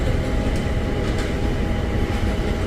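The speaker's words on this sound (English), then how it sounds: "I think we're pulling into the Metro Mover thing here." Miami Metromover train pulling into a station, a continuous low rumble of the car rolling on its guideway with faint squeaks, heard from inside the carriage, steady and fairly loud.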